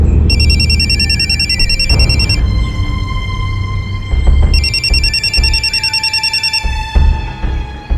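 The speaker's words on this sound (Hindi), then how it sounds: "फोन।" Repeated electronic telephone ringing in two long bursts, bright and fairly loud, over a low domestic hum and background rumble, with no talking.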